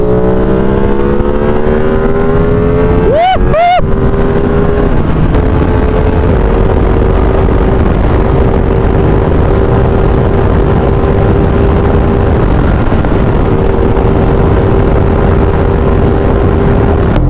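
A Ducati Streetfighter V2 motorcycle at speed, its engine note climbing and shifting through steady tones, with heavy wind roar throughout, loud and close, rising pitch sweeps near the start and a sustained drone after.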